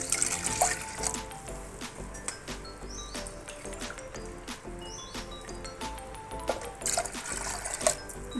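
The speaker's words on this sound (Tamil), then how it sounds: "இப்போ 2 கப்பு தண்ணி ஊற்றிக்கிறேன்" Two cups of water are poured into a pot of roasted moong dal while cooking an Ukkarai sweet, a soft, steady trickle and splash at close range, with light kitchen clinks.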